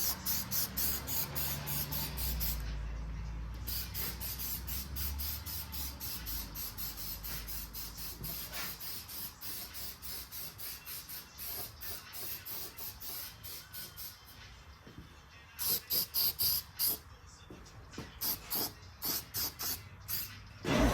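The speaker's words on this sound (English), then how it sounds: "I'm gonna hit with some of this rust converting primer" Rust converting primer sprays from an aerosol can onto bare metal at the dash area of a 1969 Trans Am, a steady close hiss broken into repeated short bursts, with rapid sputtering pulses toward the end.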